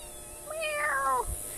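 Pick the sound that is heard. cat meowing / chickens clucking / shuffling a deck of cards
cat meowing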